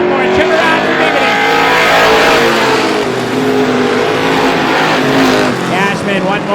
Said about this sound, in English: Cashman one more time closes the gap in the corner, but Peabody pulls him on the back straightaway